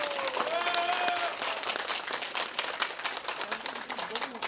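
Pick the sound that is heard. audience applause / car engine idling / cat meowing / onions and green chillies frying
audience applause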